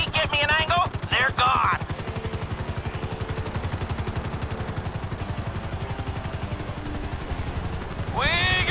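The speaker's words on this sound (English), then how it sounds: "We got company! I see them! Three choppers!" Helicopter rotors chop in a fast, steady rhythm and gunfire rattles in a GTA V firefight as three choppers close in, loud and continuous, with brief shouted voices at the start and end.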